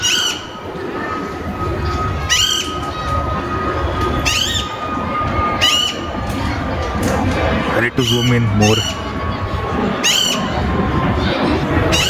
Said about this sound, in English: you can hear the noise of birds